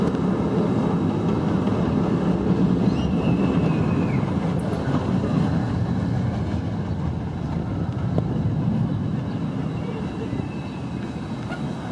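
Ride aboard the Shivering Timbers wooden roller coaster at Michigan's Adventure, a steady loud roar of the train rumbling along the track from start to finish, with a faint hint of voices in the mix.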